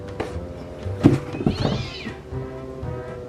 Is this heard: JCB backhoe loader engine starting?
no